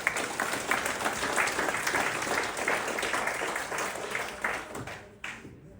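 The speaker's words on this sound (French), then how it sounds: "merci beaucoup Michel, on l'applaudit s'il vous plaît." Audience applause at an evening talk, a dense steady wash of clapping from a sizeable crowd that carries on for several seconds before thinning out near the end.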